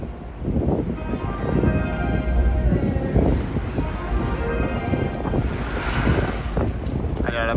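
Wind buffets the microphone on a boat, a continuous rushing roar with a low throb underneath, while people talk over it throughout.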